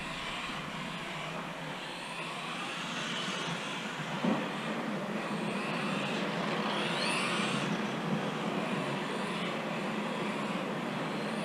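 A Tamiya TT-02SW electric RC touring car drives around a track, its motor whine rising and falling as it passes, with a steady broadband rush throughout and no talk.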